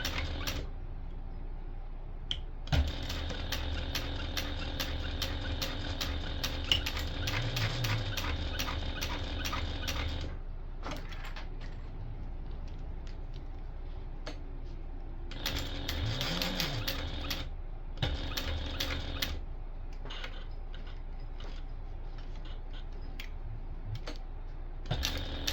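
A sewing machine top stitches around a small tote bag at a one-eighth-inch seam allowance, running in two long, steady buzzing bursts separated by quiet pauses.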